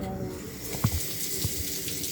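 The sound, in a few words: water tap turned on, running water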